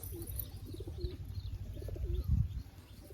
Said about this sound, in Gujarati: તો જો મિત્રો આવી ગયા છે કબૂતર બધા.